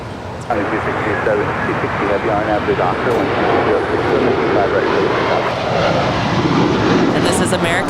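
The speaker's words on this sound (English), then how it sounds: "669 off to Chicago O'Hare. It is an 8-year-old A321." An eight-year-old American Airlines Airbus A321 departs LAX for Chicago O'Hare, its jet engines kicking in suddenly and then roaring loud and sustained, with people talking over the top.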